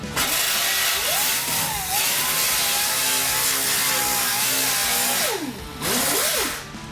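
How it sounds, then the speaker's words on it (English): A grinder working over dented car bodywork to smooth it, giving a continuous loud whirring grind with a pitch that rises and dips as the load changes, briefly easing near the end before picking up again, with no voices. "So now he'll go back over top of that with his grinder and grind that smooth."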